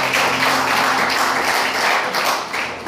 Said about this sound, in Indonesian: Tepuk tangan dulu untuk Tuhan kita.